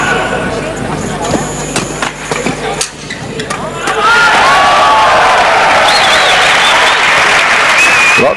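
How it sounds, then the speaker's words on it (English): Applause from a crowd fills a badminton arena in Madrid during the 2006 World Championship, starting at a moderate level and swelling into a loud, dense roar of clapping partway through, with some voices and faint whistles in the mix. "Lots of applause ringing around this stadium in Madrid."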